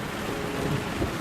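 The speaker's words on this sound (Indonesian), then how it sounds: "Tiba-tiba hujan mulai turun." Steady rain pours in a film scene with a low rumble of thunder rolling underneath, a continuous dense wash of sound with no voices.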